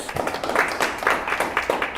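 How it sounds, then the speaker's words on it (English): Applause for finalists at an online university impact contest finale, quick steady clapping from a small group, close and fairly loud, mixed with some cheering voices. "Yeah, big round of applause."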